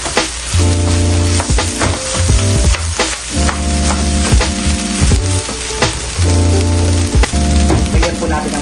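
Fried rice sizzles loudly in a hot pan, a steady crackling hiss with scattered pops and stirring scrapes that carries on throughout, with faint music behind it.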